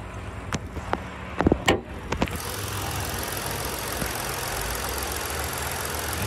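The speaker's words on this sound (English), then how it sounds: "Let's pop the hood. Take a look and listen to the engine." A 2016 Ford Taurus SEL engine runs with the hood open, a steady close idle hum, preceded by a few sharp clicks and knocks during the first two seconds.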